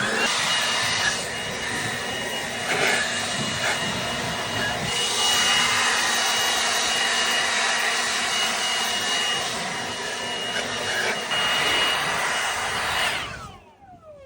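An air blower drives water off freshly washed equipment in a steady, loud, broadband roar that holds for about thirteen seconds, then cuts off abruptly near the end.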